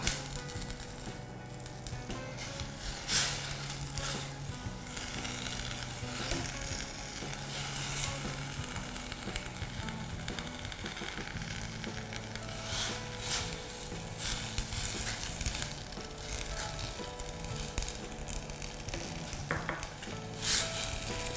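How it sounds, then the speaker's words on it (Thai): Vegetables simmer in boiling suki soup broth over high heat, a constant dense bubbling hiss with occasional louder pops and soft clinks, steady throughout and without voices. "เริ่มเดือดแล้วเราก็จะใส่ตัวผักลงไปนะคะ"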